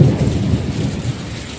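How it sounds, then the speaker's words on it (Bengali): Heavy rain pours down during a violent thunderstorm with frequent lightning, a steady loud hiss of rain on surfaces layered over deep rolling thunder rumbles, with no voices. "আর বিভৎস বৃষ্টি নেমেছে প্রচণ্ড।"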